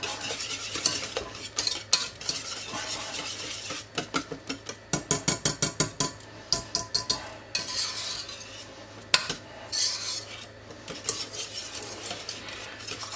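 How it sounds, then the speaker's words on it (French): A utensil scrapes and stirs béarnaise sauce in a pan, producing quick rhythmic scraping strokes in bursts, with clinks against the pan's edges, close and fairly loud with no voices. "Racle bien les bords pour bien mélanger"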